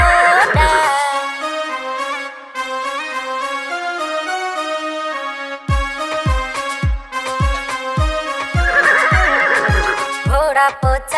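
A loud horse whinny sounds at the start of a Hindi nursery rhyme, followed by steady music and a rhythmic clip-clop beat, and a second shrill neigh rises near the end.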